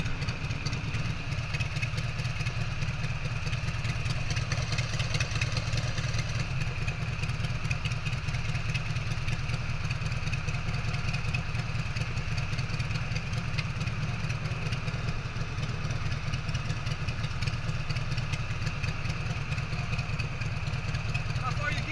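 A motorcycle engine runs at a steady idle or low speed throughout, a constant low throbbing drone with faint clatter and people talking over it at times.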